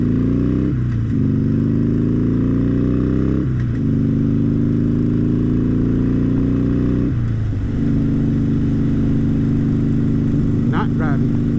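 A motorcycle rides at night on Highway 69 in Grayson County, North Texas, its engine droning steadily and loud up close, with three gear shifts marked by brief dips before the pitch climbs again.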